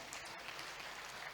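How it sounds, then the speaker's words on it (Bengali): An audience at a business presentation event claps in a quiet, steady burst of applause that sounds somewhat distant and lasts about a second and a half. "ওনার জন্য একটা জোরদার হাততালি"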